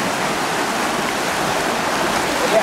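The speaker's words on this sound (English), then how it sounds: "this is the Yaak River right here" The Yaak River in Montana rushes steadily, a close, broadband wash of flowing water holding at an even loudness throughout with no voices.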